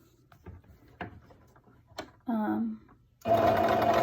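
Sewing machine stitching a seam around a fabric face mask, preceded by small clicks of the needle and foot being adjusted, then a short whirring run and a longer, louder steady burst, with a voice briefly between.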